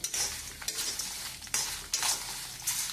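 Dry curry leaves roasting in a pan over a low flame, crisp rustling stir strokes sweeping every half second or so, close and moderately quiet with no voices.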